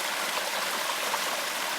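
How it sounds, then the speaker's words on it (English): Brook water overflowing and running down around a culvert beside a trail along Mine Brook after heavy rain, a steady close rushing wash with no break. "A little bit of overflow here with all the rain, so the water's running down and around it also."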